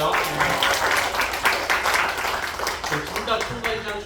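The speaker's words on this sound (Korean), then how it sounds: "박수 한번 할까요?" An audience at a Tuesday chapel service breaks into applause, a broad wash of clapping that rises and stays steady while voices carry through the room.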